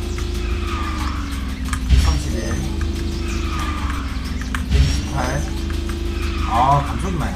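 Karts in the racing game KartRider drift round a track, a steady engine hum broken by repeated surges of skidding tire squeal, under continuous talk.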